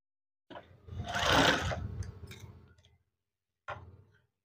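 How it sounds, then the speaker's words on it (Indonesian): A sewing machine stitches fabric in two runs: a steady whirring burst of about two and a half seconds, then a short pause and a brief second burst, close and moderately loud with no talk. "Sewing."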